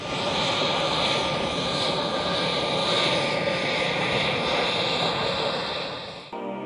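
Lockheed U-2 Dragon Lady high-altitude spy plane with long, narrow glider-like wings, heard in flight as a steady, loud engine roar holding for several seconds before cutting away abruptly near the end.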